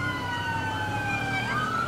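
Wailing ambulance siren from the FivePD police game, a steady, loud electronic wail sliding in pitch over continuous road and engine rumble, with no talking.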